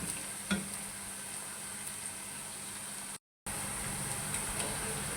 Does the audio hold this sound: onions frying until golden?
yes